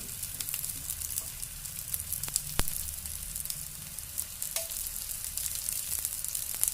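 Corn tikki patties sizzle steadily in oil on a pan, a soft, continuous frying crackle with occasional small pops, heard close and alone.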